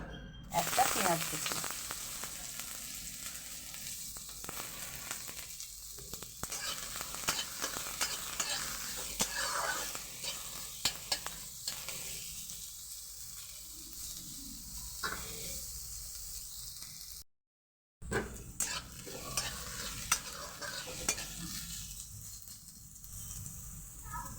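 Onions are stirred and fried in oil in a pan for a red spinach dish: a steady sizzling hiss with repeated scraping strokes of the spatula and one brief silent gap partway through.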